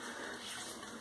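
Water runs faintly and steadily from a tap while someone prepares to wet-shave with a Muhle R41 razor and a Feather blade.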